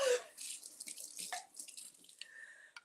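Running water from a kitchen tap as something is rinsed under it, close and fairly quiet, in short splashy bursts with a brief tonal squeak at the start.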